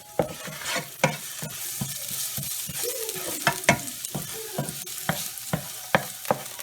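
About a tablespoon of garlic frying in a hot pan for chilli chicken, a constant sizzle punctuated by frequent sharp scraping strokes of a spatula at an irregular rhythm, close and unaccompanied by speech.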